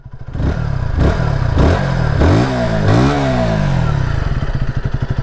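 KTM Duke 160 motorcycle exhaust being revved in neutral: several sharp throttle blips rising and falling in pitch, then a longer rev before settling back toward idle, close and loud.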